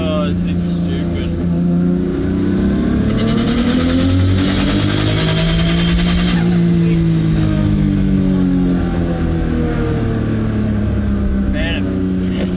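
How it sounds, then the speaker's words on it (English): A Ford AU Falcon with an RB20 engine swap and an unfinished tune revs hard in the cabin, its engine note rising and falling in long sweeping pulls while passengers talk over it. "Try and rev her out a bit."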